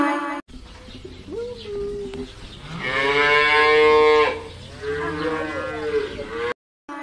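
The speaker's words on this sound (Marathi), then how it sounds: "काऊ COW काऊ." A cow moos in long, drawn-out lowing calls, loud and close, one swelling into a strong middle stretch before fading, with no speech over it.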